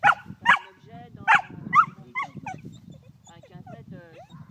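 A dog barks during tracking training outdoors, with several sharp, close barks bunched in the first two seconds, then a person talks over quieter background sound.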